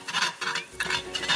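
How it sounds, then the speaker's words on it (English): Beef stir-fried in a wok, with steady scraping and stirring against the metal over a hissing sizzle, close and fairly loud, in uneven bursts of tossing. "Stir frying beef is also the most likely chance to have the wok to accumulate all kinds of stuff and then make it sticky."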